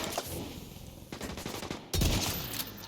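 Rapid bursts of gunfire in the Division 2 video game, with a headshot popping an enemy's helmet, crackling in close, loud volleys and ending in a heavier, punchier blast.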